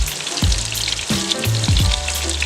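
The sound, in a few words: chicken for chicken parmesan frying in a pan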